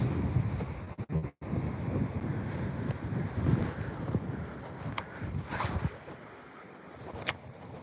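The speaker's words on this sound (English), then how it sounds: "It's real windy." Steady wind roars and buffets across the microphone, gusting loud and broadband with brief dropouts, no talking, outdoors while bass fishing ahead of storms.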